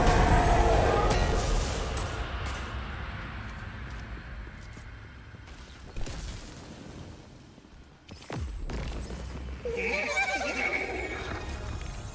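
A horse neighs in the video game Destiny 2, a loud whinny at the start over game music and effects, with further game noise and a whoosh-like sweep later on.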